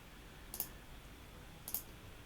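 A computer mouse clicks twice about a second apart while working in audio plugin software, sharp close clicks over a quiet room hiss.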